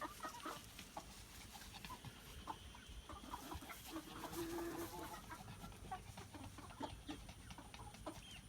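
Hens cluck softly and intermittently at close range around a coop, with scattered scratching and rustling noises and no talking.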